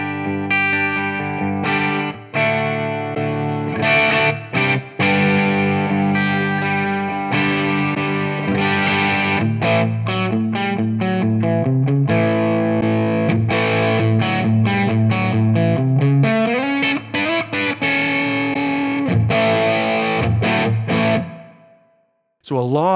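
Electric guitar played through a Bad Cat Cub amp model in ToneX, EF86 version, ringing chords and single notes with distortion and chorus-like shimmer, loud and continuous for over twenty seconds before a final fade.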